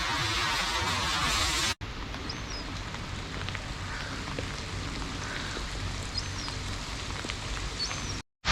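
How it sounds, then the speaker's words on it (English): Heavy rain pours steadily by the old ferry jetty at South Queensferry, a dense, close wash of drops that continues unbroken apart from two abrupt cuts. "It's pouring the rain."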